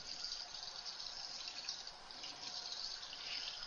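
Water streams steadily from a tap into a container for cookie dough while baking in a lounge, a continuous close gushing pour with no voices.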